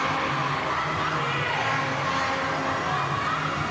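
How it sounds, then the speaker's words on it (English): A rink crowd at an IIHF ice hockey game between Hong Kong, China and the Philippines cheers and shouts continuously, a dense steady roar with whoops mixed in. "Listen to the crowd, the fanfare."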